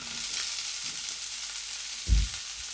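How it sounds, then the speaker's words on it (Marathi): Onions frying in a pan until deep golden brown for a spicy chicken sukka, a fairly quiet steady sizzling hiss with one soft thump from the pan near the end and no voices. "कांदा छान खरपूस रंगावरच तळला गेला पाहिजे."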